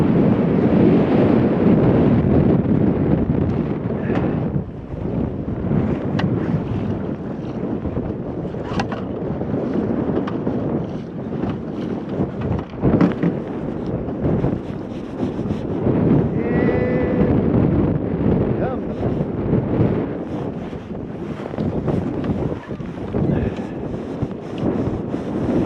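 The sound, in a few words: wind blowing on a fishing boat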